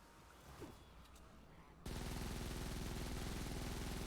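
The Terminator weapon firing in Fortnite: Save the World, a quiet stretch suddenly breaking into a loud, rapid, unbroken stream of shots that carries on to the end.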